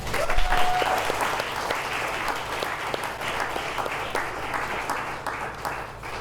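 Sustained audience applause at a mental health awards ceremony, a dense, steady wash of many hands clapping that continues throughout at a fairly even level.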